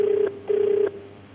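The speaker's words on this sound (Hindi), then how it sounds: "एसपी साहब, एसपी सिटी जी को भी फोन मिलाया जा रहा है" Outgoing telephone ringback tone on a call being placed to a city police superintendent's office, two steady rings with a short gap between, clear and alone with no talking.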